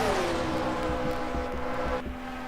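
Stock cars in a Grand National Series race at Kentucky roar past with a loud, droning engine tone that slides lower as they pass, followed by steady rhythmic engine pulses.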